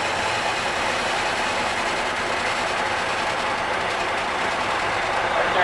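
A truck tractor engine drones steadily and loudly as it labours against the set brakes during a slight tug test in a pre-trip inspection, with a constant rumble and no clear change in pitch.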